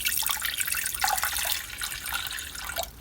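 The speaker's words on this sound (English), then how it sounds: "Let's add some water first." Water runs steadily into a pot to start cooking Maggi noodles in an Airbnb kitchen in Hahei, New Zealand, a continuous close splashing with no one talking.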